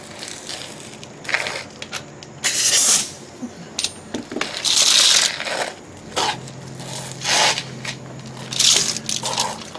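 A pneumatic air wrench loosens 3/4 steering brace bolts under a vehicle in a dim workspace, firing in several short loud bursts with pauses between them and no talking.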